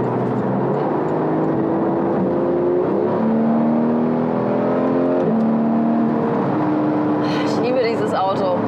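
A Volkswagen GTI Clubsport engine drones steadily while driving, rising and falling in pitch through gear changes, with a person talking over it near the end.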